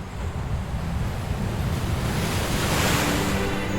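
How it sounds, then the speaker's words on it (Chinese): Ocean surf rolls and washes continuously, a broad roaring hiss of breaking waves with wind buffeting the microphone and no voices. "海浪声"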